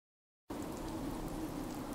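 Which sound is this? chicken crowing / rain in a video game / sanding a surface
rain in a video game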